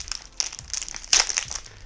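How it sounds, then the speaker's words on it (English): Plastic wrapping crinkles and crackles as it is pulled off a new Logitech G213 Prodigy gaming keyboard during unboxing, with close, irregular rustles and a louder crunchy burst near the middle. "let me just take this out of the plastic wrapping"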